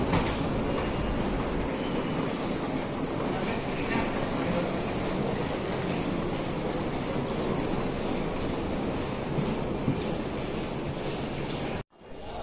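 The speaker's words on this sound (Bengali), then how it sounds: "এটা মেট্রো," Steady rumble and rushing noise of a Chengdu Metro Line 19 train while riding inside the carriage, continuous and loud for the whole stretch before cutting off abruptly near the end.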